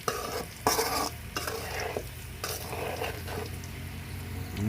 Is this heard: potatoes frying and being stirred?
yes